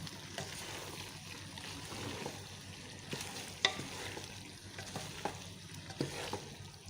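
Macaroni and finely chopped cabbage being stirred in a hot pan, a steady soft sizzle with scraping and a few sharp spoon knocks against the metal, close and without talk.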